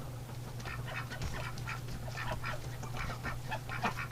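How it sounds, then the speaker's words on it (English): Ducks and geese in a winter pen keep up a busy, close run of quacks and honks, with a steady low hum underneath. "Oh, these ducks. Oh, they crack me up."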